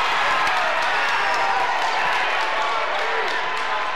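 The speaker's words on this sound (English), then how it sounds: "you can hear the crowd starting to get into it" A high school basketball game crowd keeps up a loud, continuous roar that swells steadily throughout, with a sports announcer's voice running underneath.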